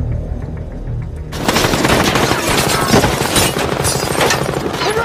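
Heavy rifle gunfire erupts in a shootout from the film Den of Thieves, a dense, loud barrage of rapid shots and booms starting about a second in and continuing without pause.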